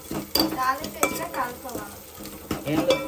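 Tempering spices fry in a pan in a village home kitchen, with a soft sizzle under repeated scraping and clanking stir strokes, close by.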